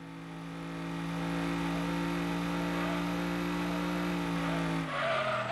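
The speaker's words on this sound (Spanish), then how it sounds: "se escucha un coche para abajo. Por el puente de abajo." A car passes on a bridge below, a steady engine drone that swells in and holds at moderate level before shifting near the end, heard from some distance with no talk over it.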